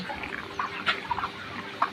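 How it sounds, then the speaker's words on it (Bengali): Broiler chickens cluck inside a farm house, with a few short, mid-level calls rising over a steady background murmur of the flock. "আমি ব্রয়লার মুরগি পালন করি।"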